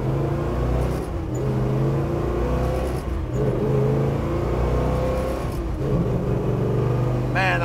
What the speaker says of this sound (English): I love the way this car sounds. It's got an amazing sounding exhaust system on it.